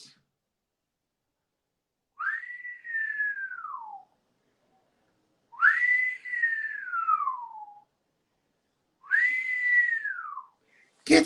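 Three long, clear whistled notes, each rising then gliding down in pitch, separated by short silences, with nothing else around them.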